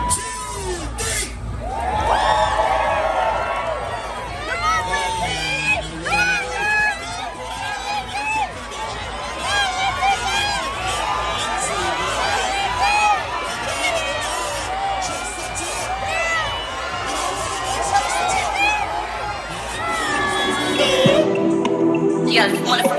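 A lively outdoor crowd at a turtle race in Houston cheers, whoops and shouts continuously, with overlapping voices and excited calls throughout.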